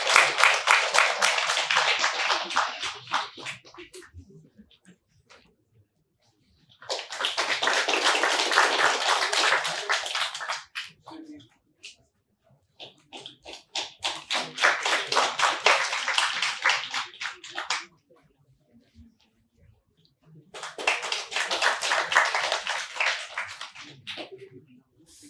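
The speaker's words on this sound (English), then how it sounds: "These people, deserve a great round of applause." Audience clapping at a datathon winners' announcement, arriving in four loud bursts of several seconds each separated by brief quiet gaps, with faint talk in between.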